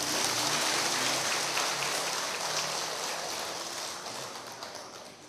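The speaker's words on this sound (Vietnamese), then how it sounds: "Vỗ tay đi." Steady, dense applause from an audience at a Buddhist dharma talk during a Vesak celebration week, a continuous hiss of clapping hands that holds strong and slowly tapers near the end.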